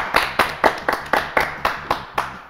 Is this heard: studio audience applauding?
yes